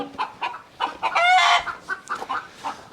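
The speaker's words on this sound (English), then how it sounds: "Hush up, chickens. They don't like this part of it." Agitated chickens cluck and squawk in a mobile chicken coop being opened for cleaning, a quick rhythmic run of calls with one longer, louder squawk in the middle, close and clear with no speech.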